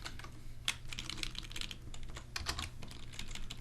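A name is typed on a computer keyboard in a rapid run of close, crisp key clicks with short pauses, alone and with no talking.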